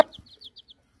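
Hen guarding her chicks gives a short series of about six quick, soft clucks after a sharp thump at the start, close by in quiet surroundings.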